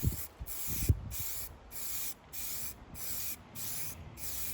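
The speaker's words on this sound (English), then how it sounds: "we can spray our first coat of high build filler primer" A rattle can sprays high build filler primer onto an alloy wheel from a MK6 Fiesta ST150 in a series of about seven short, even hissing bursts at a steady rhythm, close and loud.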